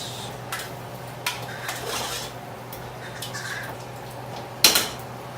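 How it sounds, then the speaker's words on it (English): Metal spoon scraping and clinking in a pot as soft paneer is stirred into vegetable biryani in a home kitchen, a few light knocks and one sharp clang near the end, close and fairly quiet. "So just add some paneer. So once you add it, let us mix it once."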